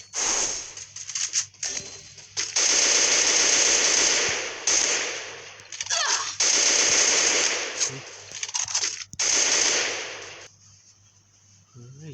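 Gunfire from the video game Free Fire, with long loud bursts of rapid automatic shots and a few short volleys between them, close and harsh.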